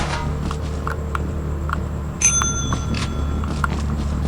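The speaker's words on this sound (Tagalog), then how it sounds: "Pag niriring yung bell." A bicycle bell gives a single bright ring about midway through, heard over steady outdoor background noise with scattered clicks and knocks.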